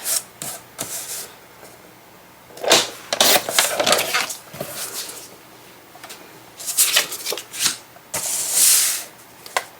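Paper pieces are cut into tags for a mini album, sounding as irregular close rasping and rustling swishes of a trimmer or blade, with short quiet gaps between strokes.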